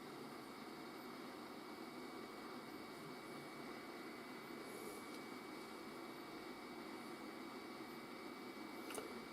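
An Acekool BD-01 air purifier's fan blows in a constant airy hiss, close by and unchanging, about as soft as a laptop cooling fan, with no voices.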